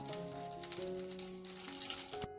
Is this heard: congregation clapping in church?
no